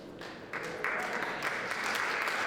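A lecture audience at a Malcolm X tribute breaks into applause, clapping rising in a couple of steps to a moderate, sustained level in the hall.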